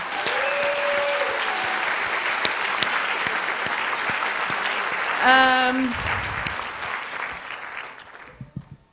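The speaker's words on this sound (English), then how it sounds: "Just one more round of applause for Makana." Theatre audience applause at a talk, a steady dense roar of clapping lasting several seconds, with a brief tonal feedback-like chirp midway and the clapping fading out toward the end.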